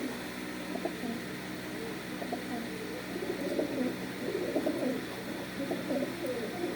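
Domestic pigeons of local and Pakistani breeds coo softly in repeated low, throaty phrases against a steady background hum, several calls overlapping over a few seconds, in Rajshahi.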